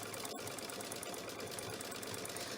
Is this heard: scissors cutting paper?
no